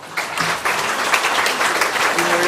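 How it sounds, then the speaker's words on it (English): Audience applause at a dinner show, a dense steady wash of many hands clapping that swells in after a brief start and carries on loudly throughout, with no talking. "with a round of applause"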